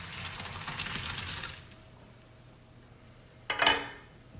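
Boiled penne pasta being drained into a colander, with a steady splashing pour of water for about a second and a half, then a brief quiet and a sharp metallic clatter.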